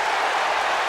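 A big baseball crowd at the 1986 World Series Game 7 at Fenway Park between the Mets and Boston, roaring and applauding in a steady, dense wash of cheering with no gaps.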